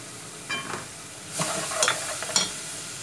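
Margarine sizzles in a frying pan with onion, a close hissing sizzle rising in short bursts as it is stirred, with no talk over it.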